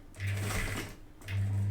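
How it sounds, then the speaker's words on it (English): Sewing machine stitching through foam, running in two bursts, a steady low motor hum with mechanical whir, pausing briefly in between before stitching resumes. "I'm sewing on top of this foam,"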